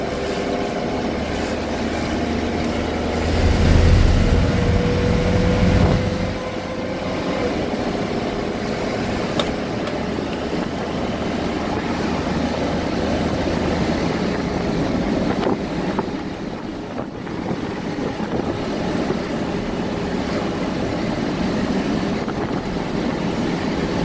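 A 2000 Mitsubishi Fuso FE-SP truck with a 4-cylinder 4D34 turbo diesel accelerates under load, a steady droning engine with a louder surge early on, heard from inside amid road and wind noise.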